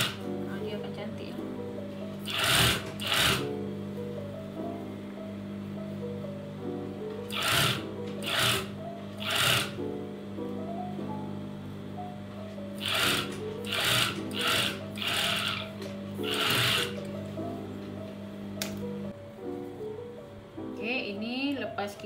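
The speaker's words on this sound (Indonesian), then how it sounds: "bila kita jahit ni dia kena tangan ni main peranan" A sewing machine stitching the collar lining of a robe, short buzzing runs of stitching separated by pauses, over a steady hum with someone talking throughout.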